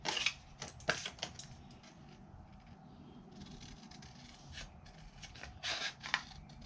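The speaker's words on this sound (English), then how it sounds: "So I'm going to take my scissors and just trim." Quiet scissors snipping and paper envelope rustling close by, a few crisp cuts in irregular bursts against soft background noise.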